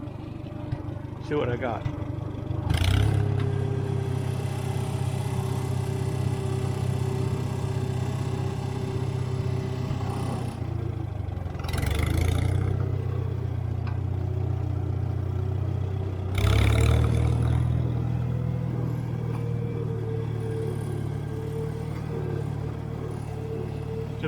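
An IH McCormick Farmall 350 tractor engine runs in third gear with a steady, close, low drone. The engine surges louder a few times as the throttle or gear changes, and someone talks briefly over it.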